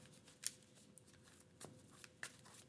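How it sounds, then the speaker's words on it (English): A deck of Marvel Champions cards being shuffled, faint papery riffles and snaps coming in a few short bursts spread across a quiet tabletop background. "All right, so we're going to shuffle up."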